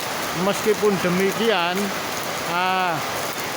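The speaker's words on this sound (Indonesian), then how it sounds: "pada sore hari ini suasana hujan cukup deras sekali" Heavy afternoon rain at Keraton Kasunanan Surakarta Hadiningrat, a steady hiss of downpour throughout while someone speaks over it.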